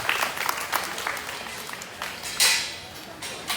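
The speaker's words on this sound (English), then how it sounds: "Let's give him a big round of applause." Audience applause fills a junior market barrow show arena, a dense steady patter of many hands that swells near the end, with no talk over it.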